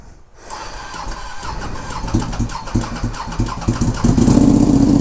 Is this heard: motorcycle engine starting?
yes